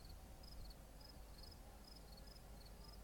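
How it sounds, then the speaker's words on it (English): Crickets chirp in grass on Vancouver Island in a rainforest setting, short high pulses repeating in an even rhythm, faint and distant over a low ambient background hum. "frogs, a lot of frogs from the river, and crickets in the grass"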